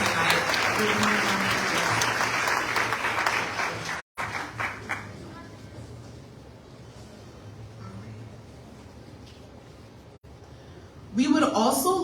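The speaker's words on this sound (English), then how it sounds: "Please give a round of applause." Audience applause at a summer graduation ceremony on a technical school campus in Paramus, New Jersey, loud and dense for about four seconds, then falling to a quieter room with voices, and a short new burst near the end.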